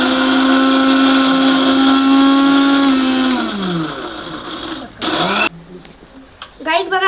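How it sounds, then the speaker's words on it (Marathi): A mixer grinder whirs loudly grinding Oreo biscuits into powder, a steady high motor whine that winds down after about three seconds, then short bursts and rattles as it stops and is handled. "आपण मिक्सरमध्ये लावून घेऊ."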